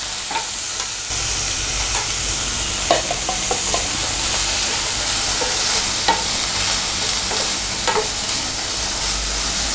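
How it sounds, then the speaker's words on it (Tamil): Capsicum and other ingredients for restaurant-style chilli chicken sauté in a pan over low flame, a steady close sizzle broken by repeated scraping stirs of the spoon, with no talk. "இது நல்லா வதங்கட்டும்"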